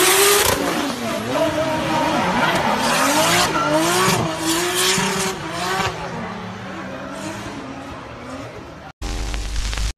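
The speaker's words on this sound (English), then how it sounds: "A race car drifting flawlessly around the curve on the track." Race car drifting around a curve on a track, loud close tire squeal wavering in pitch over a roaring engine, continuous for about nine seconds before cutting off abruptly.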